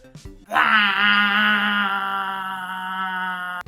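A voice imitates a slow diesel go-kart engine with a long, steady, buzzing moan, loud and close, ending abruptly.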